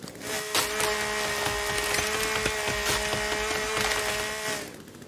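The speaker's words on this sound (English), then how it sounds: "Oh yeah, I have the chainsaw, I forgot." Chainsaw biting through wood in the survival video game The Forest, a steady loud buzzing whine with rough splintering texture that runs for several seconds and then cuts off.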